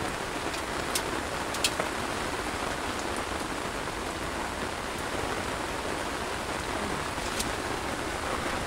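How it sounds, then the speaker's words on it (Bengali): Heavy rain pours steadily onto water and surroundings during shrimp catching with bamboo traps, a dense, continuous hiss with scattered close drops, with no one speaking. "পুরো বৃষ্টিতে একাকার একেবারে।"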